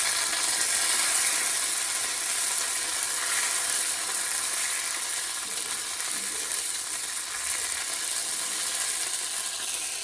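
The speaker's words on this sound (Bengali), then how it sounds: "এবার ভালো করে এটাকে ভেজে নেব" Ginger paste and panch phoron fry in a hot pan with a continuous, loud, even sizzle and faint crackle, with no talking.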